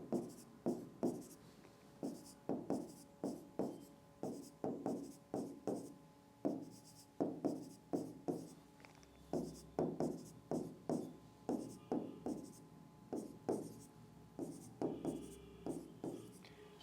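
Pen or pencil scratching out numbers by hand during a number-line maths lesson, a long run of short quiet bursts in an uneven rhythm, close and soft, with faint room noise between the strokes.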